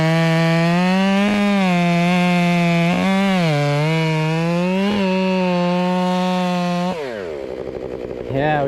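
A chainsaw roars loudly and close while cutting into a large maple tree, its engine pitch wavering under load before dropping off near the end.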